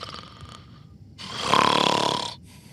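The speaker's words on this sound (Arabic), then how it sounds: "شو هاد؟ شخير ولا زعير؟" One loud, drawn-out snore swells and fades, a harsh rasping breath heard up close with no talking over it.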